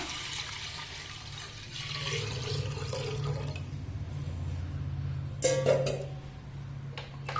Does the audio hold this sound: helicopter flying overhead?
no